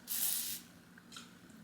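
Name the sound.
OGX heat protectant spray being sprayed on hair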